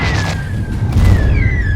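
Explosions from gunship fire in a combat scene, a dense rumbling of booms and thuds with faint descending whistles overhead, loud and continuous throughout with no talking.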